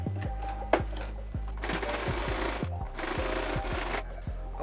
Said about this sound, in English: So I'm gonna top stitch that into place.